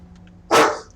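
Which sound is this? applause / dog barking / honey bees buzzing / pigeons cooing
dog barking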